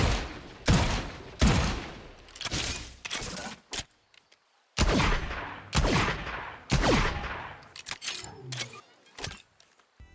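Sheriff revolver skins Neo Frontier and Arcane from the game Valorant firing and reloading: loud, punchy single shots in spaced bursts, each with a ringing tail, followed by clicking, metallic reload mechanics.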